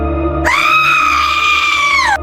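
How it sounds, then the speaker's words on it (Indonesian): Long, piercing scream used as a sound effect in a horror legend narration, rising suddenly and held loud and strained for nearly two seconds before cutting off, alone over a low background hum. "Ketika matahari muncul, jeritan panjang terdengar dari langit Kalimantan."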